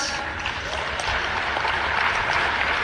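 Audience applause at a rapporteurs' session, a dense, steady wash of many hands clapping that holds evenly loud for the whole stretch, with no clear gaps or individual claps standing out.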